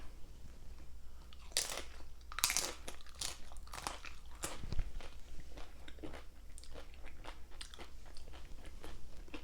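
Crunchy bites and chewing of Jack in the Box tiny tacos with hot sauce, close and fairly quiet, with several crisp crunches early on followed by softer steady chewing.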